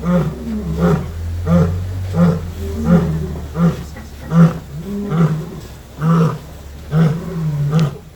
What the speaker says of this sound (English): How many people back there have heard the lions roar before?